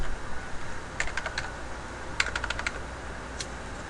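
Quick bursts of clicky keyboard taps as a phone number is entered on a computer dial pad, two short runs of keystrokes and a single later tap, close and fairly crisp.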